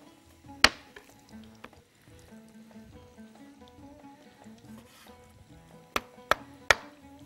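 Knife chopping onion and garlic on a board, a few sharp, distinct strikes, with a quieter sizzling and kitchen background between them.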